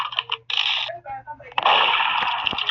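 A gunshot in the Roblox game Murder Mystery 2 fires as a loud, sharp burst that rings out for over a second, following a few shorter clicks and game noises while someone speaks briefly.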